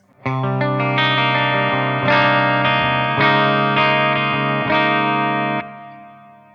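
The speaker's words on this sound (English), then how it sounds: "I am going to turn some reverb on, just for some nice ambience" A Keipro X-Metal electric guitar on the bridge pickup plays clean sustained chords with a reverb tail, each strum ringing out clearly before fading, no voices.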